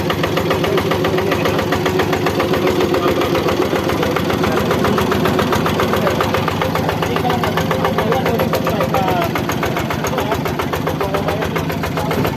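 Yanmar two-wheel hand tractor engine running steadily at idle, a loud, continuous close-up chugging with a fast, even knocking pulse throughout and no pauses.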